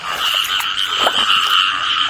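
Small frogs croak in a continuous, buzzing chorus, loud and steady over heavy rain in a rural village, with a faint splash or knock in the middle.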